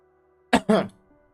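Two short, sharp cough-like bursts close together, close and fairly loud, over a quiet room.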